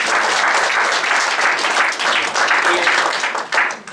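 Audience at an evening lecture in Nagykanizsa claps steadily, dense continuous applause filling the room for several seconds without letting up.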